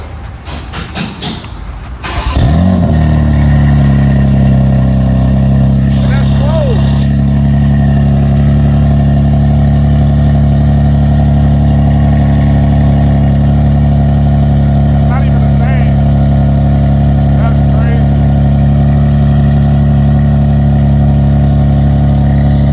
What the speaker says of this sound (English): First cold start with the new AW exhaust slash, what does I call it? Frankenstein 101 exhaust